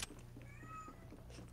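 A cat gives a short, thin meow, close by and quiet, over faint background hum.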